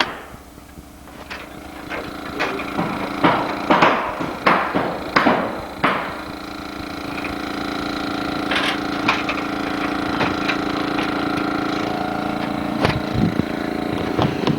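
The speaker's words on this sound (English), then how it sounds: "What we're going to do is have him nail the first couple shingles here for you so you see what we're talking about." A hammer drives nails into roof shingles on a 12x16 barn, with a burst of sharp, loud, rhythmic strikes in the first six seconds, then a few scattered blows over a steady background hum.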